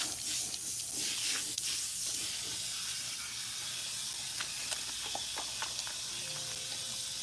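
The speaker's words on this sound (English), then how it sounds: "So I am rinsing out the conditioner, but I'm not ruffling up her hair." Water spray rinsing conditioner out of a woman's salt and pepper hair after a relaxer, a steady broadband hiss running throughout with a few faint splashes and clicks, no talking.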